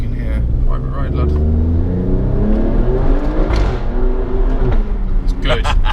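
An Alfa Romeo Stelvio Quadrifoglio with a 503 bhp engine accelerates hard and shifts up early in a 30 zone, a loud close rising engine roar with stepped pitch changes, heard from inside the car.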